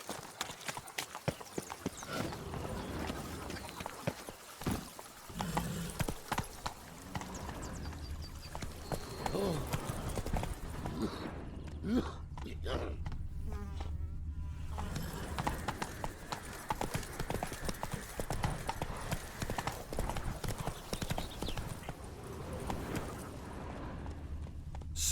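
Hooves of a trotting horse in The Witcher 3 clatter in a steady rhythmic clip-clop across a long stretch, with a short break midway and quiet game ambience and a whinny-like snort underneath.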